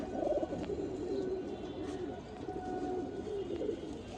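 A male breeder pigeon with a spotted eye coos nearby in low, repeated throaty phrases, moderately loud against a quiet room.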